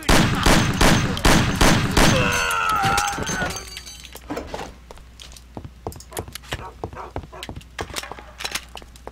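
Pistol gunfire in Mafia, a rapid, loud string of shots for the first few seconds, followed by a clanging metallic ring and then quieter scattered clicks and footsteps.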